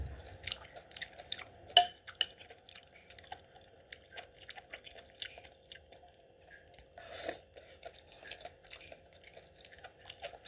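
Someone eats instant Mama noodles at close range, with soft, irregular chewing, slurping and wet mouth sounds. A few louder bites stand out, and nobody speaks.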